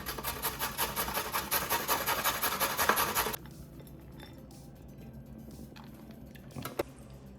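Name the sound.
grating carrot on a coarse grater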